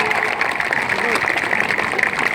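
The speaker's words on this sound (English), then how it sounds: "one more round of applause for all of our employees of the year" Audience applause in a school assembly hall for employees of the year, a steady dense wash of clapping across the whole stretch with talk mixed in.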